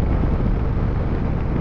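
Steady, loud wind rush buffeting the microphone while riding a Bajaj Dominar 400 motorcycle, a constant low roar with no pauses, like riding at speed.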